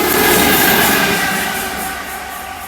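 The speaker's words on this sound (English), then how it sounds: "Oh, it's a freight train, the next train." A Class 66 diesel freight locomotive rumbles through Stowmarket station with its wagons. The roar is loud, close and continuous, with heavy engine drone and rolling wheel noise slowly easing, and no horn sounds.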